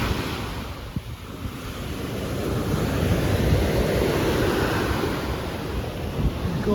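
Ocean waves roll in steadily on Chaweng Beach, Koh Samui, a continuous rushing surf with heavy wind buffeting the microphone, loud and close, with no voices.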